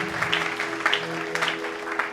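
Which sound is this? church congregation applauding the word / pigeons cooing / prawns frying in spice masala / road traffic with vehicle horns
church congregation applauding the word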